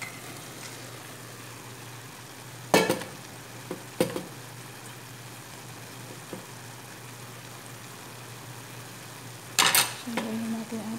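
Bean sprouts (togue) are sautéed in a pan under a low, constant sizzle, with a few sharp utensil clanks and scraping stirs against the pan breaking through at intervals.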